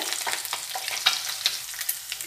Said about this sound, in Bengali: ফোড়নটা দিয়ে দিলাম, ফোড়নটা ভাজা হবে।